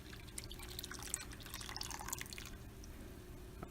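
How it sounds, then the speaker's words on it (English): Liquid from a bottle poured slowly onto curds in a cooking pot, heard as faint, scattered dripping and trickling splashes over a low steady background hum, with no talking. "slowly pour it to the curd stuff"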